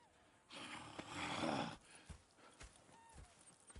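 Horses in the video game Red Dead Redemption 2 snort and shuffle close by, with a loud breathy burst in the middle and soft scattered hoof clops afterward.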